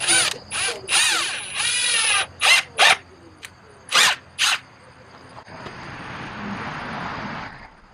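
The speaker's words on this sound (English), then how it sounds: "So just pre-drill it again." A power drill pre-drills a hole while building a door for a compost bin from hardware cloth. It whines in a long burst, then several short, loud spurts with brief pauses between, followed by quieter rustling.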